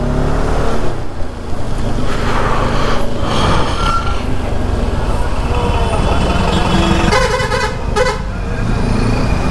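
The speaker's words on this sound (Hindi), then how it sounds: "बहुत ट्रैफिक है यहाँ पे।" Road traffic in the Kangan village market in Ladakh: trucks and other vehicles rumble close by as car horns toot several times over constant engine noise.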